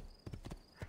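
Horse hooves clip-clop in quick irregular steps in the Assassin's Creed II video game, several close, loud hoofbeats in short clusters alone with no talk.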